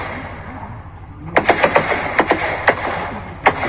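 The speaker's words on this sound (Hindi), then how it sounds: "ताबड़तोड़ फायरिंग की गई और नक्सलियों के द्वारा" Gunfire from a Naxal attack on soldiers in Dantewada: a rapid string of sharp, loud cracks, about a dozen shots in irregular bursts over a constant low rumble, with no voices.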